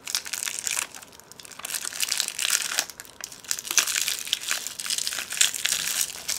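Crinkly plastic packaging rustles and crunches continuously as it is handled and unwrapped, with sharp crackles throughout.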